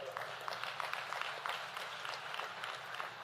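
An audience at a religious discourse gathering applauds, a dense spread of many hands clapping at moderate distance, continuous and fairly faint throughout.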